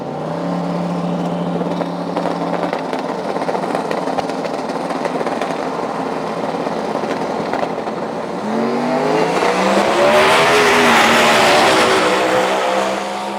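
Radial drag race cars in a $10K 275 radial showdown making a pass, a loud sustained roar of racing engines that swells sharply partway through as the cars launch and accelerate hard down the strip.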